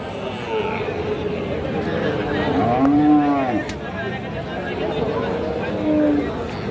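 A Friesian or cross-breed bull calf moos twice, loud and close, at a busy cattle market (haat) in Raniganj, with a steady crowd murmur and people talking throughout.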